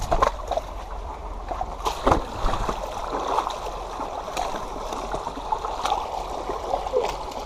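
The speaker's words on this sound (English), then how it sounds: "Look at this massive little waterfall." Water splashes and trickles over a small waterfall in a creek bed, a close, uneven rushing with scattered splashes that stays fairly constant.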